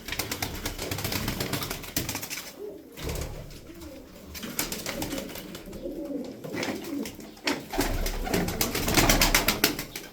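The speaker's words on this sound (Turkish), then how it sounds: "Ya burada ne kuşlar var abi" Pigeons coo softly and repeatedly close by, with faint rustling and background noise throughout.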